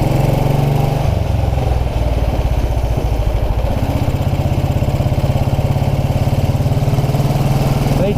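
A 1929 Ariel motorcycle engine thumps loudly and steadily while being ridden along country lanes, with a rapid rhythmic exhaust beat that shifts slightly in pitch partway through.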